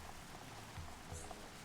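Steady, dense rain patters without a break in the video game Xenoblade Chronicles, a soft, even hiss of falling drops with faint water splashes and no one talking.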